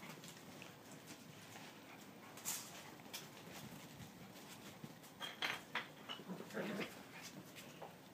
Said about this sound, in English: See how Ariel's growling at them?